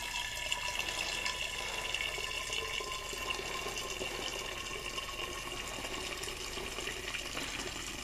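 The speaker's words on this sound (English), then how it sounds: "we're going to transfer our wine to these gallon jugs." Homemade Barolo wine from a kit pours steadily out of a bucket into gallon jugs, a continuous liquid splashing and trickling that stays even and close throughout with no talking.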